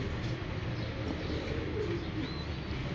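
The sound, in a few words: pigeon cooing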